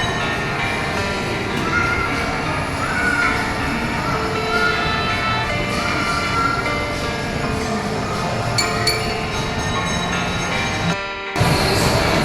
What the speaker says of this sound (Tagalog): dumaan ng train